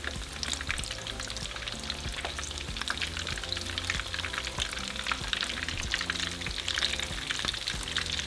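Crunchy shredded beef tacos dorados frying in a pan of hot oil, a dense steady close sizzle with fine crackling bubbles running throughout and no one speaking.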